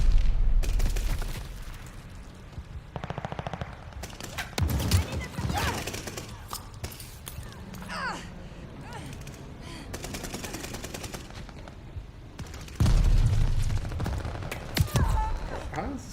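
Gunfire in the Call of Duty Vanguard video game, with an MG42 in play, sounding as repeated rapid bursts and single shots, some loud and close, others distant, mixed with a player's voice.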